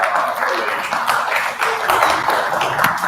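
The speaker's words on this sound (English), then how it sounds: "Can we give her a standing applause, please?" An audience gives a standing ovation at a community health event, a moderately loud, uneven patter of many hands clapping together that swells and dips over a few seconds.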